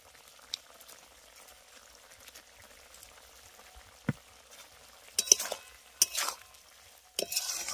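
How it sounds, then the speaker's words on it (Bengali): Fried mourala fish dropped into a thickened, boiling tomato and potato gravy in a village-style kitchen, then stirred. A faint simmer runs throughout, with a few soft splashes and scraping stirs toward the end. "এবার আমি ভেজে রাখা মাছগুলো এর মধ্যে দিয়ে দেবো।"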